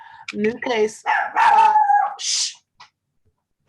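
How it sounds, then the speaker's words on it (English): A dog barks a few times during a city housing appeals board meeting, the short yips mixed in with and overlapping someone speaking. "excuse my dog. He's making a motion."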